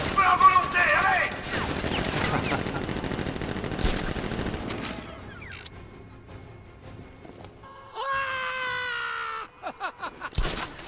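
Gunfire in the video game Batman Arkham Knight: dense bursts of shots and automatic fire in a loud battle, then quieter moments with sharp electronic whooshes and a final blast, with voices mixed in.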